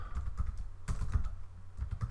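Computer keyboard keys typed in quick, uneven bursts up close, with a short pause partway through and no talking.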